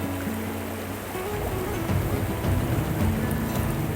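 The Karnali River in Nepal flows past its tranquil bank in a steady, full rushing wash. The sound swells slightly partway through and is heard alone, with no voices.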